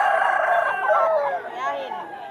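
White chickens crow at a pet market in Bulacan, with a long, loud, close crow whose drawn-out wavering call fills the moment while the surrounding market ambience stays faint.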